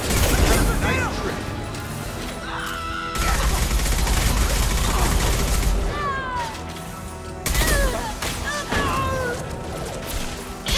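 Sniper gunfire in Mass Effect 2 cracks out in repeated loud bursts, with heavy impacts and game effects around it and a busy mix underneath.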